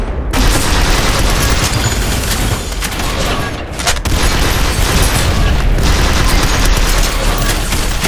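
Heavy sniper shots and booming impacts in the video game Synthetik, loud and continuous, with dense rumbling blasts layered across the whole stretch and a short dip near the middle.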